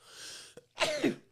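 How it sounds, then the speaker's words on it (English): A single sneeze, close and fairly quiet: a soft intake of breath, a short pause, then a sharp burst, with no talking. "About to sneeze."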